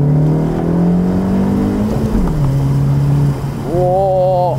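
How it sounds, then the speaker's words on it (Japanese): A car pulls away hard from second gear on a wet road, the engine note rising steadily in pitch, dropping briefly on a gear change, then climbing again loud and close with no talk over it. "今2速なんですけど、2速から行きますよ、イキリダッシュ"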